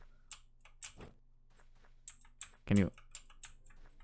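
Computer keyboard keys are pressed in sparse, separate clicks while a fantasy adventure game is played, the taps close and crisp, with a brief spoken remark partway through.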